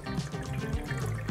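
Water trickles steadily inside a donut-ring-puffing humidifier set to its dripping mode, a close, continuous gentle burble with no talking.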